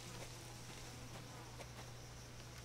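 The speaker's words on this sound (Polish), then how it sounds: "czy da się wyłączyć komary?" Mosquitoes in Resident Evil 7 whine in a constant faint buzz over a low steady hum, continuous and quiet with no voices.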